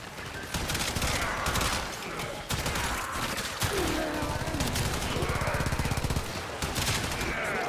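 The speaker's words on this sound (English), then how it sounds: "the gun sounds are always really good" Rapid gunfire from the shooter game Warframe, dense automatic bursts rattling on almost without a break, loud and close, with brief gaps between volleys.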